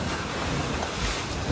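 Ocean waves and wind out at sea, a dense continuous wash of surf and buffeting wind noise, with a low thump at the end.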